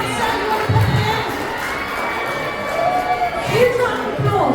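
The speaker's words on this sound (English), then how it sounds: "can we have a huge round of applause for everyone who gave?" Crowd at a charity gala in the Jonathan Club cheering, with shouts, whoops and general noisy clamor mixed with voices in a lively room.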